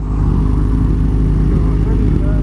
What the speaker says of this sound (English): Don't want another car to go by.